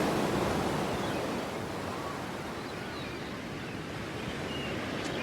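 Broad, steady roar of sea waves washing onto a shore, continuous and fairly loud throughout with no distinct breaks, wind mixed into the wash.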